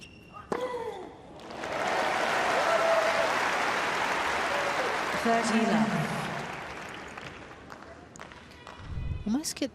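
A crowd applauds and cheers at the Australian Open tennis final, a swelling wash of clapping that rises after a ball strike, holds for several seconds, then fades as a commentator talks and the ball bounces.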